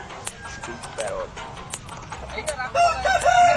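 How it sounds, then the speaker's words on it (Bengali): Roosters crow and hens cluck amid the bustle of a poultry market selling red and black fighter breeds, with brief crowing calls rising over steady crowd chatter and a louder burst of activity near the end. "প্রচুর মুরগি এসছে, প্রায় হিরে লাল মুরগি আছে"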